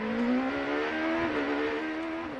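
A Highcroft HPD race car with a 3.4 litre V8 engine at the 2011 Sebring 12 Hours, holding a loud, steady high-revving drone throughout with no voices over it.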